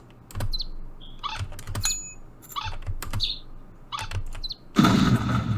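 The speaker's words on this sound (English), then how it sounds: "so he chirps when he attacks" Attack sound effect for a character in a Unity game, built with Blender and Unity: short high chirps repeat several times between soft clicks and thumps, then a loud noisy burst closes the sequence.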